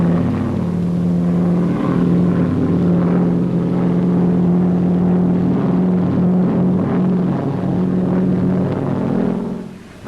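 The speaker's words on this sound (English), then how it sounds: "The Auster Eaglet, the light aircraft par excellence." An Auster Eaglet light propeller plane drones steadily and loudly overhead, its engine hum constant before easing off at the very end.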